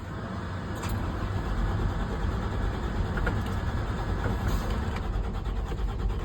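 A truck engine rumbles at a steady idle, low and continuous, close by in the cab with a faint rattle and no voices.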